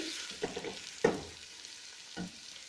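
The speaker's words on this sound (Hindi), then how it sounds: "अब हम प्याज को ब्राउन कर लेते हैं" Onions frying in oil for chicken biryani, a soft sizzle broken by a few brief stirring scrapes and knocks of a utensil in the pan, fairly quiet and without speech.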